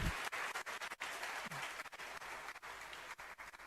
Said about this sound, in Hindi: उसकी तालियां बज रही आज